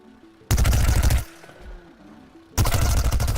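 Rapid automatic weapon fire in Plants vs Zombies: Garden Warfare aimed at a scientist character, two loud dense bursts of quick shots separated by a brief quieter gap with faint background tones.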